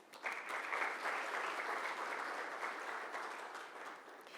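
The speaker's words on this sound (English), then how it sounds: "Can we have a huge round of applause for all of our sponsors" Sustained applause from an awards-ceremony audience for the event sponsors, a steady dense wash of clapping that holds at even strength for several seconds and thins slightly toward the end.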